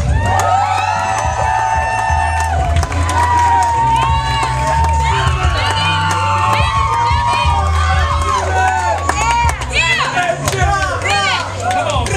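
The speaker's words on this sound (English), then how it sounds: "build your round of applause and show some excitement for James Church" A live audience at the TGSPF event cheers and whoops loudly as a performer is introduced to the stage, a dense, sustained crowd roar with shouts and voices throughout.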